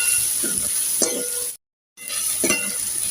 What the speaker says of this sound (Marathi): नरम होईपर्यंत परतून घेऊया त्याला।